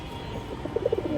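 Musaldom and Moyna jhak pigeons in a breeding loft give several soft, quick coos in a short burst while scuffling, faint and close over low background hum.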